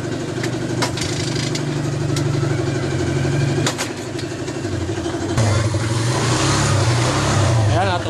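A Kawasaki Fury 125 motorcycle with an engine that stalls when the signal light is used, its single-cylinder engine idling close and loud, with the pitch shifting as it catches and keeps running.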